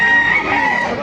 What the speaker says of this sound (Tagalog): Ito na mga manak ko.